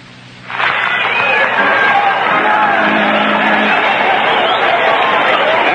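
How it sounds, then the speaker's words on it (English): A large baseball stadium crowd at a 1972 Mets–Padres game settles after the seventh-inning stretch, a broad steady roar of many voices rising sharply after half a second and holding loud and continuous. "the big crowd settling back now after the seventh inning stretch"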